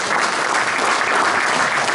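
Steady applause from a conference audience at a public debate on trams and free public transport in Toulon, filling the room evenly and loudly from start to finish without talk.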